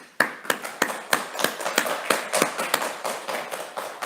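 A church congregation claps in steady, evenly spaced unison beats during a dawn service, a dozen or so soft, rhythmic claps in a row.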